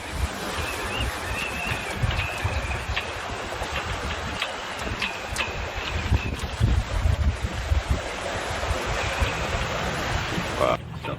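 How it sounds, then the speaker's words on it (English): Strong wind buffets a MacGregor 26 sailboat under way, a constant rushing roar with low gusty rumbles of microphone wind noise and water, with faint creaks and brief whistles throughout. "It's pretty windy."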